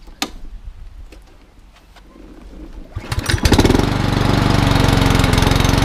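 A Mountfield SP454 self-propelled lawnmower, a car-boot find with a fuel fault that only runs on choke, starts with clicks and a pull, then its small engine catches and settles into a loud, steady, close chugging drone.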